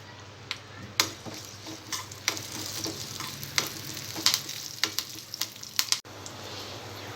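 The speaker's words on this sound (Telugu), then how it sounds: "ఆయిల్ వేడిన తర్వాత వెల్లుల్లి ముక్కలు, పచ్చిమిరపకాయలు, కరివేపాకు వేసుకోవాలి" Garlic pieces, green chilies and curry leaves sizzling in hot oil for chicken 65, a close crackling fry with sharp pops and spatters scattered across the sizzle, no voices.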